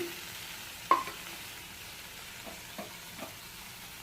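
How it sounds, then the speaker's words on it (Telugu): Chopped tomatoes and onions frying in a pan for tomato chutney, a faint low sizzle broken by a few sharp spoon knocks as they are stirred. "ఈ టమోటాలను కూడా వేసి చక్కగా ఒకసారి కలిపి"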